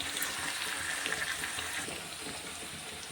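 Garlic greens and chickpea greens frying in oil in a pan, a steady close sizzle with soft crackle throughout, gently easing in loudness toward the end.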